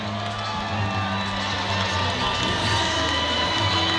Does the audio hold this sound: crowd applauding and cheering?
yes